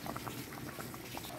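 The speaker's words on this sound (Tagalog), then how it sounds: "Kumukulo na, oh." A pot of arroz caldo made with glutinous rice bubbles steadily at a rolling boil, with thick pops and gurgles close up over a constant simmering hiss.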